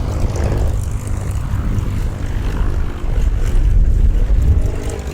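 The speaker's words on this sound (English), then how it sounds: "Sorry about the noise, but it's an active airfield." A loud, continuous Yak-52 propeller aircraft engine drones close by at an active airfield with broadband rumble, swelling slightly toward the end, no speech.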